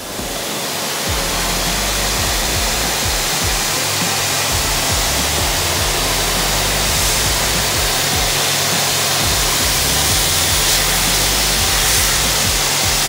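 Kränzle high-pressure washers, a quadro 1000 TST and a therm CA 11/130, spraying in use, giving a loud, steady hiss and rush of water jet that runs unbroken throughout with no talk.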